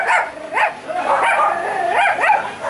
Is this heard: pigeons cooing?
no